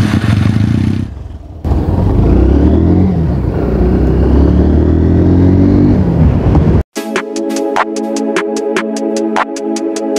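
A car on the road in light holiday traffic gives a loud, steady engine and road rumble for about seven seconds, then cuts abruptly to a rhythmic, tonal pattern for the remaining few seconds.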